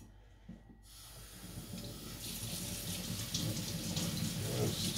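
Running tap water splashes steadily over a knife being rinsed at a sink after sharpening, a close, continuous hiss and patter with a few faint breaths.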